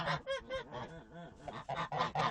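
Geese honk close by in a quick series of loud, nasal calls, a short pause in the middle, then another burst of honks.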